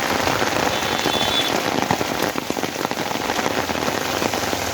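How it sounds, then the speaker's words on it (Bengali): Heavy rain pours steadily onto a road, a dense, continuous hiss of drops spattering the surface, loud and close throughout with no voices. "এই দেখো কি হারে বৃষ্টি হচ্ছে বৃষ্টি ফোটা করে রাস্তা করছে"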